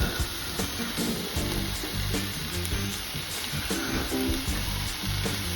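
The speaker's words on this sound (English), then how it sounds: "we're just going to char this off to give it a nice crust" Koji dry-aged wagyu steak sears in a pan without oil, giving a loud, steady sizzle and crackle with clinks of stirring, and no talk over it.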